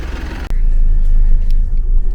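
A Mitsubishi L200 pickup climbing a mountain road in first gear with a tonne of cargo aboard, its engine a loud, steady low rumble close by, with a brief interruption before the drone resumes.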